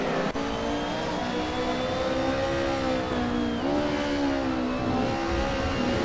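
A BMW E30 M3 race car in Assetto Corsa at Mugello, its engine revving hard down the straight with a steady loud whine that dips briefly as it shifts, then climbs again, other cars faintly behind.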